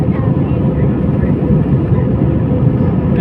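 Airplane climbing after takeoff from a Saudi Arabian airport, a loud, steady low engine roar heard from inside the cabin, with no breaks throughout.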